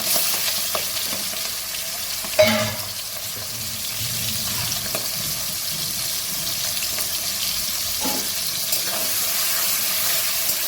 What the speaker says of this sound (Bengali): তেলটা গরম হয়ে গেছে চিংড়ি মাছগুলো দিয়ে দিলাম চিংড়ি মাছগুলো ভেজে নেবো